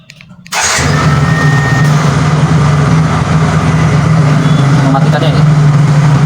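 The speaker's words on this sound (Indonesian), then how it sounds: "Ketika kita menekan 2 kali, itu motor akan hidup." A motor scooter with fuel injection and an automatic transmission is started by a remote alarm starter and settles into a steady, close idle that runs unbroken to the end.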